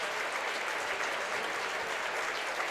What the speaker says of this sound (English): get a nice round of applause